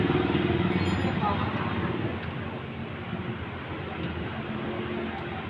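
A motorcycle engine runs close by while being started and tested, a steady rumbling idle that eases slightly in loudness after the first couple of seconds.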